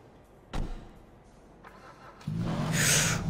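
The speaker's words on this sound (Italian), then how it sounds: "Dai, Ale, io provo a metterla in moto" A Toyota Supra sports car engine in modded GTA 5 cranks and catches, settling into a low rumbling idle after a sharp click and a brief whir.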